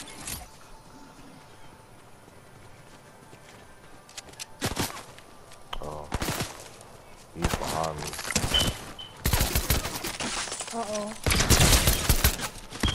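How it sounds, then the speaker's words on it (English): Rapid bursts of gunfire in a Fortnite match, loud and clustered in the second half with sharp repeated shots, while a player talks excitedly over the action. "Where is this dude shooting me from?"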